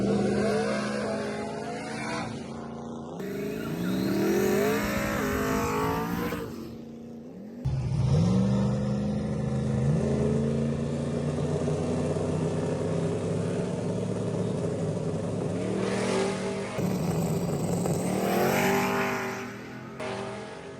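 Turbo LS-swapped Mustang making a first-round eliminations drag racing pass at an index race, with loud engine revs climbing through gear changes, deep sustained acceleration roars and brief lifts between pulls, alongside another car in the pairing.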